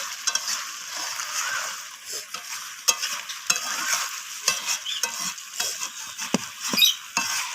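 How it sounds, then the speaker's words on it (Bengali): Chicken and squash sautéing in hot oil in a pan, stirred with repeated scraping strokes over a steady close sizzle, with sharp clinks and louder scrapes coming at an irregular pace. "তো আবারও একটু কষিয়ে নিচ্ছি আমি"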